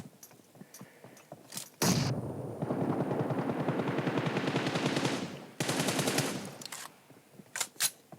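Heavy automatic gunfire in PUBG Mobile, a long sustained burst of rapid shots followed by a second burst, with scattered single pops before and after.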